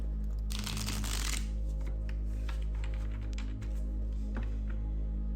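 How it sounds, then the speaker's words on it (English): Tarot cards are riffled in a brief rapid flurry, followed by scattered soft taps and shuffles over a steady low hum. "let's give these cards a good little shuffle here."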